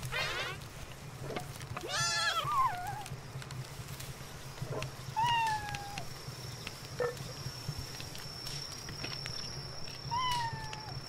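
Cat-like pal creatures in the video game Palworld give several short, bleating meows at intervals over a low steady game hum, fairly close and distinct, with no talk over them.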